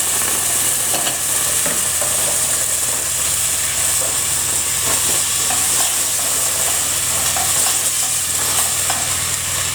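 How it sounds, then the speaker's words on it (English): Beans from a tin of mixed beans in mild chilli sauce go into a hot pan for a vegetarian Mexican lasagne, and a steady loud sizzle and hiss carries on throughout with stirring scrapes. "And now we're going to add all of our beans."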